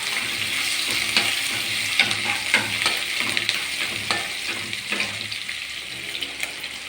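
Ginger and green chilli sizzle steadily in a hot pan as they are sautéed, with a constant frying hiss and soft scraping stirs repeating every second or so.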